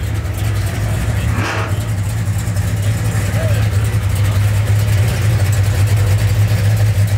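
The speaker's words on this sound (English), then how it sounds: "Chevelle SS sounding extra mean" Big-bodied Chevrolet Chevelle SS muscle car with an LS2 engine, rumbling steadily at a car meet; a deep, constant low idle drone holds loud throughout, with crowd noise around it.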